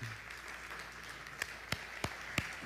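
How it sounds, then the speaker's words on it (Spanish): A church congregation applauds the home group hosts, soft and distant crowd clapping over a quiet room, with a few sharper individual claps standing out near the end. "Quiero que demos aquí ahorita un aplauso a todos los anfitriones de Grupo de Comunión."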